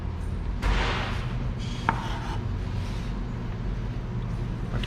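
Knife chopping an onion on a cutting board, with a few distinct cuts standing out near the start and middle over steady low background hum; no talk.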